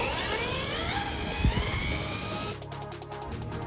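RC car on a 4S LiPo at full throttle, its motor whining in a high electric tone that rises and falls steadily, loud and close, then changing to a buzzing pulse near the end.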